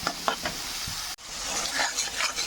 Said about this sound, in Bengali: এটা দিয়ে আমি নাড়তে থাকবো, কষিয়ে নেবো ভালো করে।